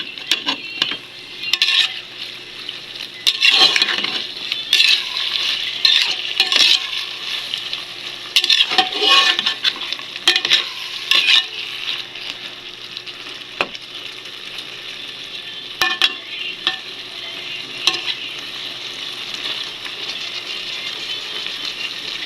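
Sliced mushrooms frying in a pan with a constant close sizzle, broken up by repeated scraping and clinking as a utensil stirs them, with irregular bursts of stirring throughout.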